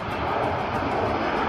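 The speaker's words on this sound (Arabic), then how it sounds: "طارت الطيارة." Jet airliner taking off at Manchester Airport, heard from a nearby viewing park as a steady, broad roar of engines at moderate distance, unbroken across the short stretch.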